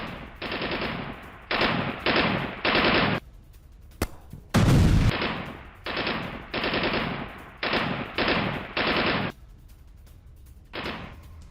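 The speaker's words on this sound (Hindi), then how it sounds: "इजरायल ने फायरिंग का वीडियो भी जारी किया है" Gunfire in a conflict zone in Israeli-released footage, loud bursts of rapid automatic fire separated by short pauses, with one heavier booming blast in the middle.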